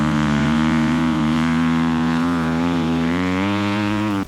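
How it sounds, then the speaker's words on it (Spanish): An AI-generated motocross bike starts off and accelerates on a beach: a loud, steady buzzing engine drone holds throughout, then cuts off abruptly at the end. "le pedí que me crease una moto de cross que hiciera una salida y acelerara en la playa"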